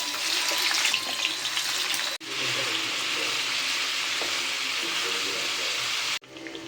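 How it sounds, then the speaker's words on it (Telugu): Prawns fry in a few spoons of oil in a pan over a low flame, giving a steady, loud, close sizzle that cuts out briefly twice and runs without talk. "ఒక ప్యాన్ పెట్టేసుకొని ఒక 3-4 పావుల ఆయిల్ వేసుకొని ప్రాన్స్ని మంచిగా వేయించుకోవాలి"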